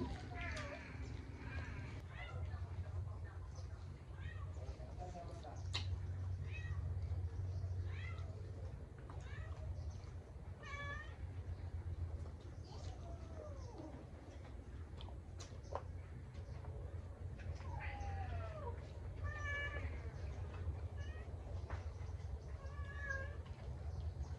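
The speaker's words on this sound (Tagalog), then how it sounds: "Maingay ang pusa ni James." A cat meows repeatedly, its cries rising and falling over steady low background noise, with a few other calls mixed in.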